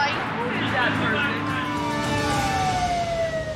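A police car siren wails outside a restaurant, its tone sweeping and gradually falling as it passes, heard over loud, overlapping arguing voices and street noise.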